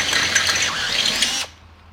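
A power drill reams out holes in cut-up old engine parts for a coffee table frame, a steady high whirring buzz that runs alone and close for about a second and a half, then cuts off abruptly.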